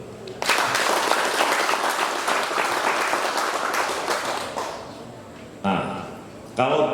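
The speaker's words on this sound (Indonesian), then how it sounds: "Tepuk tangan dulu." Audience applause at a Dayak customary council inauguration ceremony in Kembayan, a dense, steady crowd of clapping that swells, holds for several seconds, then fades before brief renewed bursts and voices near the end.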